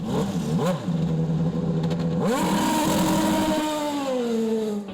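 Champ Car race cars on track during sighting laps before qualifying: loud, high-revving engines scream past, pitch dipping and then climbing through gear changes, one car passing after another.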